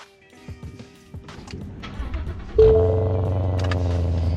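Modified 2015 Ford Mustang GT V8 with performance and premium packages cold-starting: a few faint clicks and cranking, then the engine catches with a sudden loud burst and settles into a deep, steady rumbling idle.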